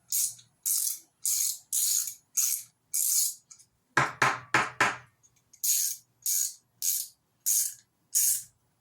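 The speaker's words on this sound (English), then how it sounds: "It's a good thing I brought my trusty dusty socket wrench." A socket wrench ratchets in quick, evenly spaced bursts of clicking, close and fairly loud, with a denser cluster of clicks partway through before the regular rhythm resumes.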